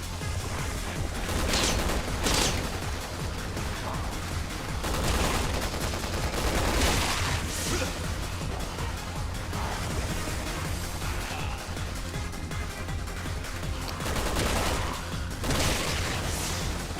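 Constant gunfire in Resident Evil 6 Mercenaries mode: a dense, unbroken barrage of shots and bursts running throughout, with louder blasts standing out every few seconds and no speech.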